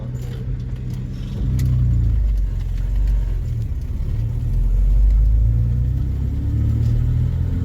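Holden Commodore engine revving with a rising gearbox whine riding over a deep, steady rumble, loud and close, no talking.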